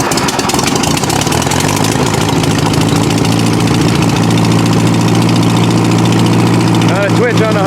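A Farmall tractor engine running steadily at idle after being fired up, a continuous loud mid-to-low rumble throughout, with a brief rising whine near the end.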